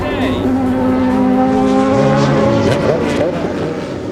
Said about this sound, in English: That was the number 21 car, the Aspen Knowles car.